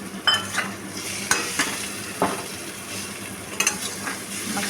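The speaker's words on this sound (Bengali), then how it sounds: "ডিমগুলো মশলার সাথে ভালোভাবে মিশিয়ে নিচ্ছি" Fish roe is stirred with ground cumin and other spices in a frying pan for a spicy roe curry, with repeated spatula scrapes and taps over a constant sizzle, close and fairly loud, and no voices.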